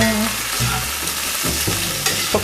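Potatoes being stirred in a hot pan while cooking Swedish meatballs, a loud close sizzle with scraping and knocks from the utensil over a low background hum.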